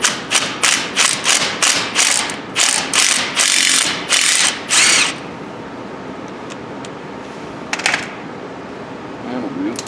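An impact wrench rattles in quick repeated bursts on a brake caliper bolt of a 2011 Impala, loud and close, about a dozen pulses before stopping, followed by quieter handling noises.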